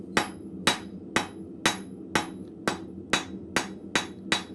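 Blacksmith hammering square steel stock on an anvil to taper it on all four sides: ten evenly spaced ringing hammer blows about half a second apart, each with a bright metallic ring that fades, close and loud.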